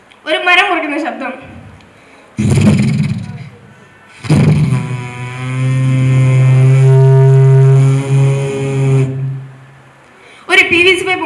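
A performer at the 64th State School Kalolsavam mimicry event vocally imitates a tree being cut, giving a loud sustained droning saw-like buzz lasting several seconds, framed by short bursts of voiced effects before and after.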